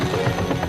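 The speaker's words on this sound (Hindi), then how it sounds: "ओह, हेलीकॉप्टर।" A helicopter's loud, steady rotor rumble fills a short moment of a Bhojpuri film teaser, with no voices over it.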